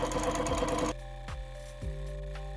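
A longarm quilting machine runs a fast, steady basting stitch on a pieced cuddle quilt, loud and continuous for the first second, then dropping to a quieter mechanical hum with brief clicks.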